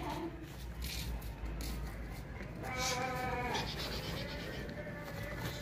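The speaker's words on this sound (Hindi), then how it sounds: "ये नाची बकरी है, नाची बकरी, और ज़बरदस्त बकरी है" A goat bleats in a livestock yard, a wavering bleat rising over steady background noise midway through, fairly close, with no talk over it.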